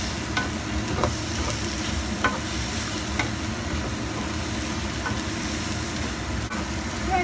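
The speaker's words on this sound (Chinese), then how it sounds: "喺度炒匀啦" Luffa stir-fried with dried shrimp and seasoned with salt, sugar and mushroom powder, a steady close sizzle with light spatula taps and scrapes recurring every second or so.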